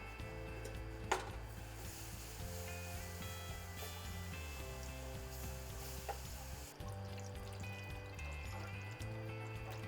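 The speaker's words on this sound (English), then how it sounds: "Let's go ahead and slowly add our milk." Milk trickling slowly into a pan of gravy, a steady soft liquid pour with low background hum running the whole time.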